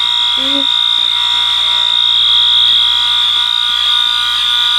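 A Wheelock 7022 fire alarm sounds a loud, close, steady high-pitched electronic tone that runs unbroken throughout, with a person talking faintly underneath.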